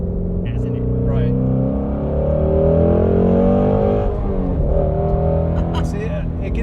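A 2018-2021 Ford Mustang GT with the 10R80 automatic revs hard while accelerating, its close engine note climbing steadily in pitch over several seconds with a short dip partway through.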